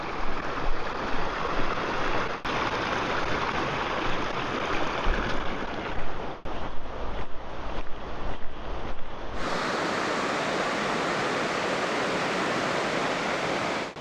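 A brook in the Peak District rushes steadily with a broad, even wash of flowing water, close and continuous, with no voices.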